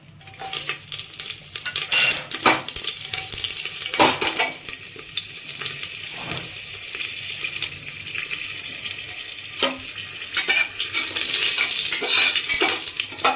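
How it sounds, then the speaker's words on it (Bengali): Cumin, bay leaf, dried red chillies and green chillies hit hot, smoking oil for a vegetarian daliya khichdi, sizzling steadily and close, with utensils clinking and stirring scrapes over the frying hiss. "এই সময় দেখুন আমরা দিয়ে দিচ্ছি ফোড়নটা জিরে তেজপাতা শুকনো লঙ্কা আর দুটো"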